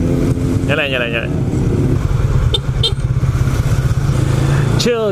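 A Yamaha LC135 motorcycle engine drones steadily while riding, with a loud low hum throughout and brief voices rising over it.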